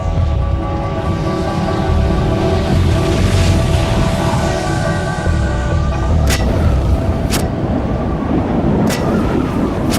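Deep, continuous rumbling roars from the Krakatoa volcanic eruption throughout, with several sharp cracking booms punctuating the second half.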